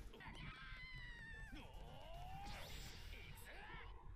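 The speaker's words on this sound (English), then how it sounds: "That scream was ridiculous." A high, sweeping animated scream from a One Piece anime episode, loud and drawn out with rising and falling pitch over busy cartoon sound effects, filling the whole moment without pause.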